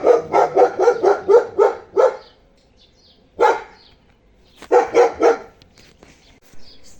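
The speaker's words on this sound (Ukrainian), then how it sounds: "собака гавкає" A dog barks in quick bursts: a rapid run of about eight close, loud barks, a pause, one lone bark, then another cluster of four or five, with quiet gaps between.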